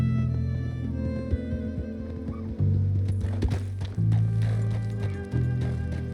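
A horse gallops in Red Dead Redemption 2, hooves thudding in a steady quick clip-clop, close and loud, with a few snorts and bursts of rustling movement as the pace picks up; no talking over it.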